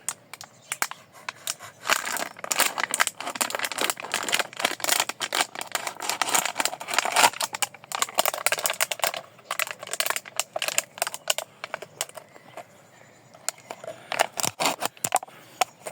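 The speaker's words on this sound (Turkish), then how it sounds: "Yine böyle pet şişe bunu şöyle yarıdan falan keselim." A plastic PET bottle being cut in half, with a series of close crinkly snips, crackles and scrapes of plastic coming in irregular bursts, quieter toward the end.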